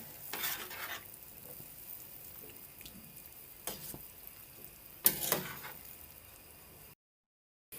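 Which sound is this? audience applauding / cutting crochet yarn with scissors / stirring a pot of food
stirring a pot of food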